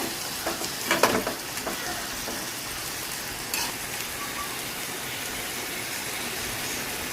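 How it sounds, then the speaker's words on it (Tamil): Chicken gravy with liver being stirred in a pan, a constant sizzle with a few scraping clatters near the start, close and unvoiced. "நல்லா கிண்டி விட்டுட்டே இருங்க"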